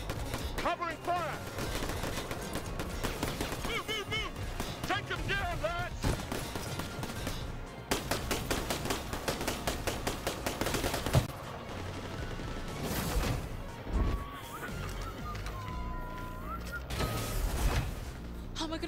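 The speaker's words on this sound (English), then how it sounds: "Covering fire!" Gunfire bursts in New Tales from the Borderlands, with shots crackling over a busy mix of game music and voices, continuous and loud across the scene.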